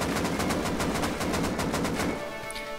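Rapid automatic weapon fire in the video game Rust, a dense continuous burst of loud repeated shots lasting about two seconds before cutting off, followed by a brief quieter tail.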